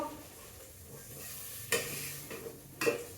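Spices fry with a steady, soft sizzle in a pan while a spoon stirs through them, with two sharper scrapes against the pan standing out near the middle and end. No one speaks.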